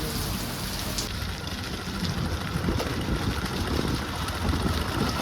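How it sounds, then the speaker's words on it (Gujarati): Heavy rain pours down steadily in a full downpour, a dense, loud hiss of drops drumming on surfaces close by, unbroken for several seconds with a low rumble underneath. "આપણે ફૂલ વરસાદ ચાલુ થઈ ગયો છે"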